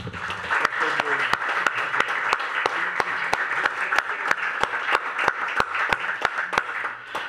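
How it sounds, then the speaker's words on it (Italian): Audience applause in a lecture hall at a summer university event on intelligence, a steady, even clapping from many people with sharp individual claps standing out, continuing throughout at moderate volume. "con un caloroso applauso che vi invito a tributare."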